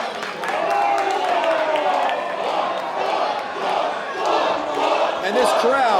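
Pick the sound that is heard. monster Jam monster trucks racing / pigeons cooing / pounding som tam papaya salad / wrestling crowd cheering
wrestling crowd cheering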